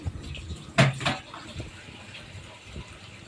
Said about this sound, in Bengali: হালকা একটু হাত দিয়ে পানি দিয়ে দিলাম